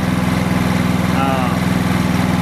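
A Honda portable generator engine runs at a steady speed, giving a continuous close droning hum with an even pulse throughout. A voice is briefly heard over the engine.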